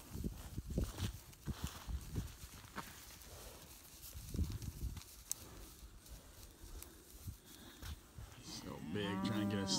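Cattle lowing in a barn or pen housing around seventy head, deep moos rising over shuffling hooves and general farm bustle, with a louder, closer moo near the end.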